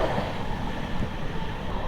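The Sealdah Ballia Express runs at about 110 km/h, a loud, steady rumble and rattle of rail wheels and carriage heard from on board throughout.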